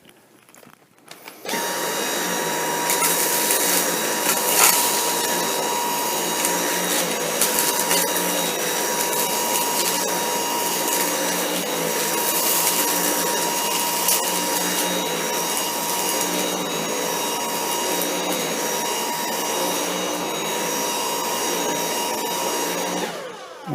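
A Dyson V8 cordless vacuum cleaner runs on low power suction, starting up after a quiet moment and then droning loud and steady with a high whine throughout.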